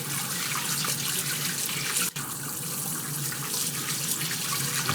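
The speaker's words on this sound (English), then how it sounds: "running water, watch how fast these come out of here" Tap water runs steadily into a sink while pomegranate seeds are pried loose under the stream, a continuous close rushing splash with one brief dip partway through.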